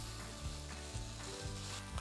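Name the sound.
salmon head frying and sizzling in a pan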